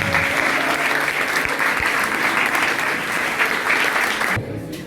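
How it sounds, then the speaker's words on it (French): Audience applause at a school philosophy debate, a dense steady clapping from the whole assembly that carries on for several seconds and then cuts off abruptly near the end. "je vous prie de nos applaudissements pour tous les participants"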